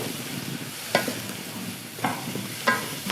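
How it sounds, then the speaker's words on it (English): Eggplant browning in olive oil over high heat, a steady close sizzle with a few sharper clatters of stirring spaced through it, no voices. "While the eggplant is browning"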